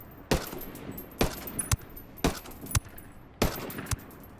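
An MDR assault rifle fires in Ghost Recon Wildlands, a few sharp single shots and short bursts spaced about a second apart, loud and crisp with brief echoing tails.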